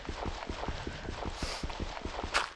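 Horse hooves clip-clopping in a video game, an even, steady run of hollow knocks at a walking pace, close and clear, ending with a brief louder rustle.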